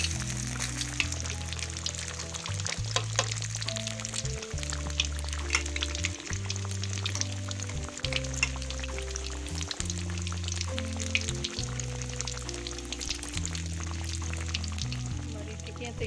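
Aloo tikki fry in a pan after flipping, giving a continuous crackling sizzle under steady background music.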